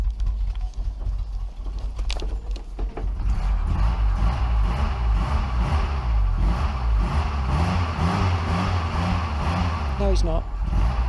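Ford Cortina Mk3 estate engine idling in a car park, then rising into a loud, steady drone with rhythmic revving, close to the microphone throughout.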